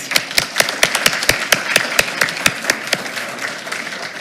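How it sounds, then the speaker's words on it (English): Sparse, scattered claps from a small audience at a school board meeting, a few hands tapping out uneven beats, fairly close and thinning out toward the end. "Let's give him one more round of applause."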